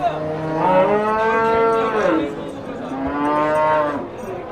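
A cow moos loudly twice in long, drawn-out calls, close by, at a livestock market, with a faint outdoor background.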